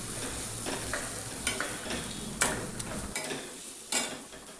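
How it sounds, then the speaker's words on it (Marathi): Masala with turmeric sautés in a pan, giving a steady close sizzle with a few louder stirring scrapes and clinks throughout. "त्यामध्ये मी हळद टाकलेली आहे, थोडासा मसाला टाकलेला आहे आणि मी हे छान परतवून घेणार आहे"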